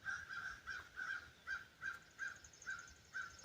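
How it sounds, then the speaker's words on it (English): Crows caw repeatedly outdoors in the countryside, about ten sharp, evenly spaced calls at moderate distance over quiet ambient air. "crows and birds"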